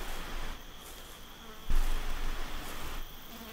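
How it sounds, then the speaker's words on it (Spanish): Flies buzzing steadily in the video game Sagebrush, a constant close insect drone around a blood-stained ranch floor, continuing without a break. "hay moscas volando a su alrededor"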